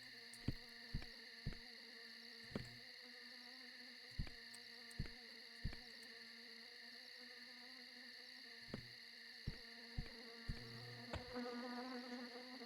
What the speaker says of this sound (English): It's a Bixie. This is a bee pixie